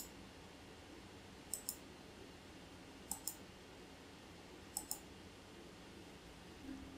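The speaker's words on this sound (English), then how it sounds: "I click on this to reboot." Mouse clicks rebooting a Windows 10 Pro virtual machine: three quiet double-clicks spaced evenly over a faint room hiss, with no talking.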